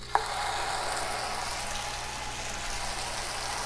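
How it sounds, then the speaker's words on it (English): Tortillas dipped in birria sauce hit a hot pan, starting with a sharp tap and then a steady, close crackling sizzle that carries on evenly for a few seconds. "You dip them in your sauce. You throw them down on your hot pan."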